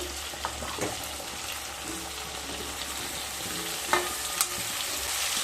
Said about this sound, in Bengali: আলুগুলো যখন হালকা ভাজা হয়ে যাবে সেই সময় দিয়ে দেব কেটে রাখা 5-6টা মিডিয়াম সাইজের বেগুন।